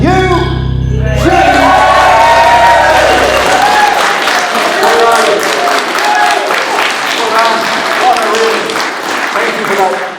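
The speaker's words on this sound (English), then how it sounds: "Thank you for that utterly spontaneous round of applause." Audience applause at a live podcast recording at the 2024 Festival of Ideas, a dense wash of many hands clapping, loud and close, swelling after a brief lower rumble at the start and continuing steadily to the end.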